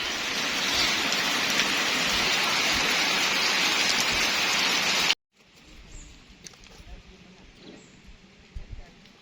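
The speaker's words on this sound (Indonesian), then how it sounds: "Kehujanan guys. Hujan basah." Heavy rain falls at a natural bathing pool in Toraja, a loud steady hiss for about five seconds, then cuts abruptly to quieter, patchier outdoor sound.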